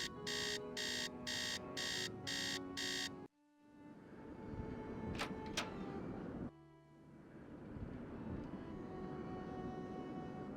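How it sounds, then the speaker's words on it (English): In the Nancy Drew game Treasure in the Royal Tower, a loud electronic alarm clock beeps in about six rapid, even bursts, then cuts off into a low rumbling game ambience with a couple of brief chimes. "Alarm."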